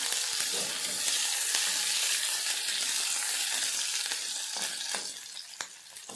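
Chopped onion sizzles and fries steadily in a hot pan, a dense continuous crackle with occasional sharper pops, close and fairly loud, no voices.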